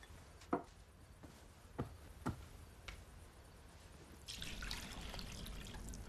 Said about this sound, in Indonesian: ia menuang air ke dalam sebuah baskom